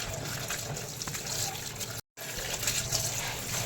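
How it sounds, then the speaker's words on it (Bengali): Radish greens are washed by hand in a basin of water, making continuous close splashing and sloshing with a brief gap in the middle. "এভাবে শাকগুলো ধোয়ার সময় একদম সাবধানে শাকগুলো ধুতে হবে"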